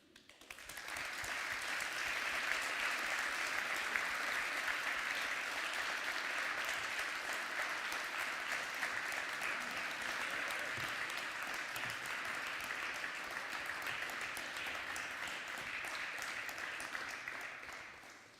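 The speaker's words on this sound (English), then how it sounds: "a big round of applause again." Audience at a LibertyCon Europe 2025 conference panel gives a sustained, dense round of applause, loud and even throughout before tapering off at the close.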